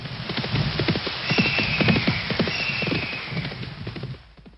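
A horse on a journey clip-clops at a steady walking rhythm, its hooves loud and close, with a whinny rising over the footfalls partway through before the steps fade out near the end.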